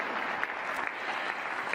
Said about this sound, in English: A round of applause to our first panelists, please.